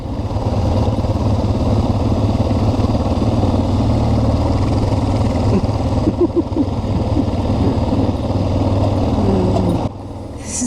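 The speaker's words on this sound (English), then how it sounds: "That noise you're hearing here is Sebastian's suspension." Motorcycle riding through sand on an adventure trail, a steady loud engine drone with rough rattling and clunking from the suspension mixed in, continuous and close throughout.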